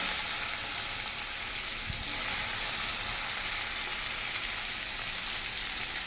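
Sliced onions dropped into hot oil with tempered cumin seeds, a loud continuous sizzle and hiss that swells slightly after the onions go in, close up with no talk.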